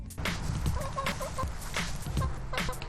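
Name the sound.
chickens clucking in an urban backyard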